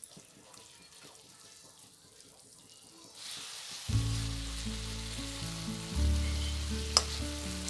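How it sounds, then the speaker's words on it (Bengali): Small Buroli fish stirred in a pan for chochori: a quiet clatter at first, then a sudden loud sizzle of frying as the fish hits the hot oil, with a sharp scrape or clink near the end. "মাছটা দিয়ে ভালো করে নেড়ে চেড়ে একটু ঢাকা দিয়ে দিলেই হয়ে যাবে।"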